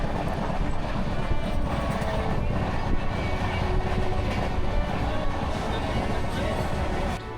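The Nangal Dam Express passenger train rumbles steadily along the rails with continuous broadband noise and faint rhythmic clatter, close and loud throughout, fading slightly at the very end.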